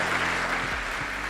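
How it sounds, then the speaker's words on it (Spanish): An audience at a conference applauds a speaker named Christine, a short, fairly quiet spell of continuous clapping from a crowd. "Un fuerte aplauso para Christine."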